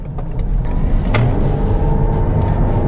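A 2021 Chrysler Pacifica Pinnacle hybrid minivan with a 6-cylinder engine and CVT accelerating, heard from the cabin as a steady low engine drone with road noise that holds even and fairly loud throughout.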